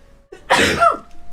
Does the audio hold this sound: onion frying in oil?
no